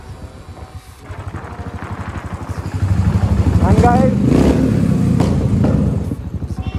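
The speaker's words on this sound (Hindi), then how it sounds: "आपने सुनी कितनी आवाज आती है मेरी बाइक में से" A motorbike engine revs up loud and close on a road near Katra, its growl rising and holding steady for several seconds while someone talks over it.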